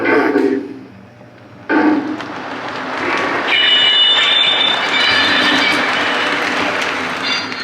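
A Williams Baldwin Shark model train locomotive runs along its track with a close, continuous rumbling whir and faint wheel clatter, rising after a brief lull and holding steady.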